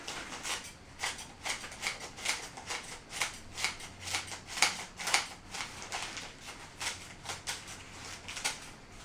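Scissors cut through crumpled newspaper to make gift filler, a steady run of quick, crisp snips and paper rustles at close range, with no talking.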